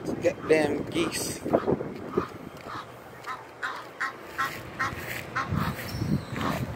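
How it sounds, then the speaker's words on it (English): Geese honking nearby after a hurricane, repeated calls in short bursts across the clip, mixed with someone talking and some wind noise. "Damn geese."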